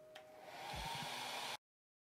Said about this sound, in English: One more time with the hairdryer.